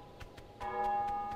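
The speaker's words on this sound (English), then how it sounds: "Where's the church bells?" Church bells ring in Untitled Goose Game, a sustained bell tone swelling in partway through over a steady ticking pulse, fairly loud and alone.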